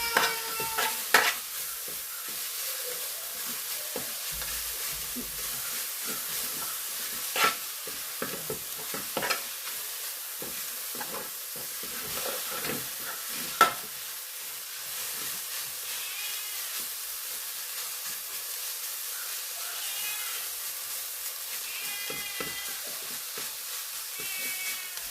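Chayamansa leaves and grated coconut stir-frying in a pan produce a continuous soft sizzle and hiss, punctuated by scattered scraping clicks of stirring, steady and moderately quiet throughout.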